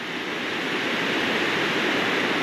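Creek water at Sweet Creek Falls rushes in a steady, close, even wash of broadband noise, with no voices over it.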